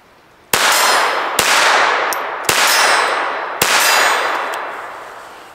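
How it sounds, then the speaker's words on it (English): Four sharp metallic clangs ring out as pistol rounds strike a distant steel silhouette target at an outdoor range, each impact ringing and slowly decaying before the next, spaced about one second apart, with no talk. "We're shooting that further steel silhouette"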